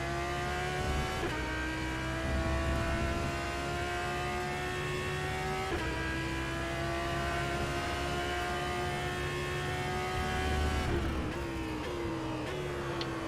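An Audi R8 LMS GT3 race car lapping Silverstone in rFactor 2, its engine droning at high revs with rising pitch and upshifts roughly every five seconds, loud and continuous with no voices.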